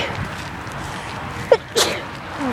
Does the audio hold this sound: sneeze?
yes